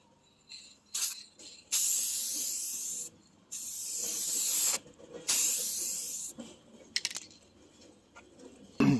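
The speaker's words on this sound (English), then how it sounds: "so now the second coat of pearl" A spray can lays a second coat of pearl paint on a Hyundai's peeling panel in three long, close hissing passes separated by short pauses, with light handling clicks between bursts.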